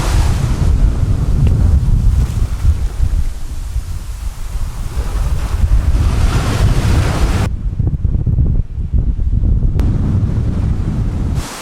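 Strong wind buffets the microphone on a beach, a loud continuous roar with surf-like rushing that dips briefly mid-clip, heard alone without voices.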